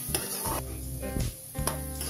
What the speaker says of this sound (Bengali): এখন হালকা নেড়ে আমি 1 মিনিটের মতো ভেজে নিচ্ছি